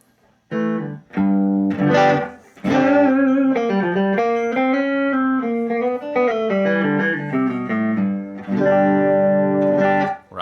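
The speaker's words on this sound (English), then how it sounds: "the thing that always surprised me about this pedal is the overdrive sound is so good" Electric guitar played through a ProCo RAT pedal with its distortion set low for overdrive, sustained gritty chords and notes ringing out loud and close with short gaps.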